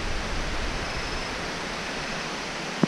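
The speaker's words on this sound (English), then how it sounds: "But what's really cool is this little waterfall," A small waterfall in South Mountain State Park, North Carolina, rushes with a steady, even hiss of falling water, continuous and moderately loud with no talk.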